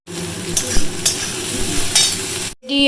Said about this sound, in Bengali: আমি লবণ দিয়ে চটকে নিয়ে তারপর ভাজি